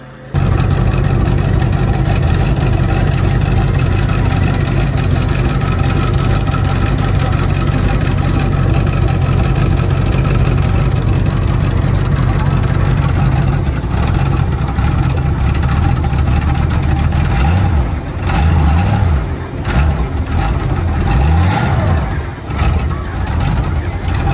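A 351 V8 boat engine with a Holley carburetor idles steadily with a deep, loud rumble, briefly revving a few times toward the end.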